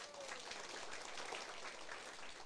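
Steady audience applause fills a hall at a closing ceremony for an administrative seminar, a dense, even wash of clapping that holds at a constant level throughout.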